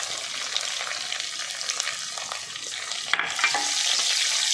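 Green chili with ginger-garlic paste sautéing in a pan, a steady soft sizzle with faint stirring scrapes throughout.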